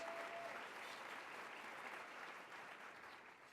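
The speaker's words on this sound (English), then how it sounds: "give your attention and a warm round of applause to my friend, Diane Ruman." Audience applause at a luncheon rolls on as a steady, faint wash of many hands clapping, continuous throughout with no talk over it.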